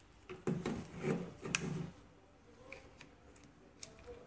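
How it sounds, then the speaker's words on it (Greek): Plastic compression fitting being unscrewed and a small inlet tube fitted onto a triple refrigerator water filter, giving a cluster of close scraping, rubbing and clicking handling noises early on, then sparse faint ticks. "Ξεβιδώνουμε το κούμπομα, παίρνουμε το σωληνάκι της εισόδου και το τοποθετούμε."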